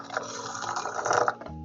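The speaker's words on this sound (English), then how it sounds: "Now what I'm going to do is just add some hot water to this. It's just boiled, just for a minute." Just-boiled hot water pours onto ground coffee in a short, close, gurgling stream that bubbles unevenly and then stops.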